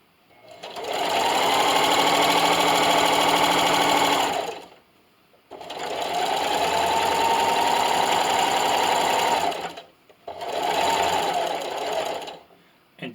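A sewing machine runs while finishing a seam on a fabric tablet stand, three long steady bursts of close, loud whirring separated by short stops.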